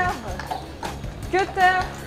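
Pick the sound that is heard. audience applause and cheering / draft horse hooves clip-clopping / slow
draft horse hooves clip-clopping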